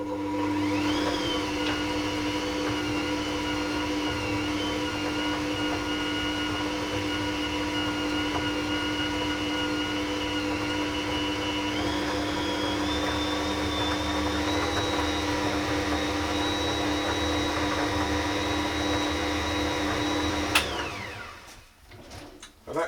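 An Ankarsrum stand mixer churns Swedish caramel cookie dough, its motor giving a steady, close whirring hum that holds for about twenty seconds before winding down and stopping.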